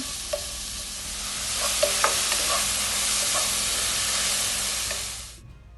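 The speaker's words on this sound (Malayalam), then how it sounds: "എന്നിട്ട് സവാള നന്നായിട്ടൊന്ന് വഴറ്റിയെടുക്കുക." Onions with salt sauté in a pan for a Kerala-style mutton curry, giving a strong, continuous hiss of frying with faint stirring clinks, close up, fading out at the very end.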